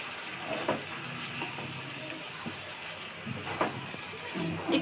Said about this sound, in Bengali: চিকেনগুলো দিয়ে একটু নেড়ে চেড়ে মিশিয়ে ভাজা